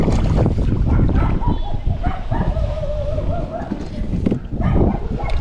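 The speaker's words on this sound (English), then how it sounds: "I've got some dogs worked up though." Dogs bark in agitated bursts near lakes around Venice, Florida, mixed with wind buffeting the microphone on a kayak, loud and close throughout.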